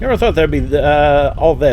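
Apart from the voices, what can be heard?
No everyday noise stands out behind the speech.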